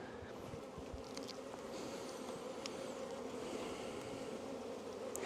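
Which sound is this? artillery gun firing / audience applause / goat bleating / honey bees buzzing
honey bees buzzing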